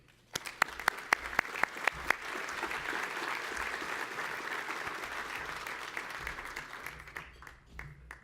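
An audience applauds to welcome Ontario Energy Minister Bob Chiarelli at a solar industry keynote, Solar Canada 2014, opening with a few scattered claps before swelling into steady, sustained clapping from a large room that tapers off near the end.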